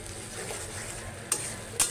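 Tomato cooks down in oil in a pan for a katla fish dish, a soft constant sizzle punctuated by two sharp utensil scrapes as it is stirred.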